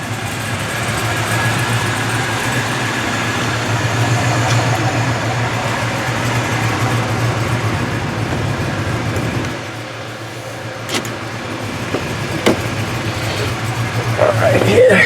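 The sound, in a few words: 1996 Impala SS 383 engine idling, exhaust shield rattling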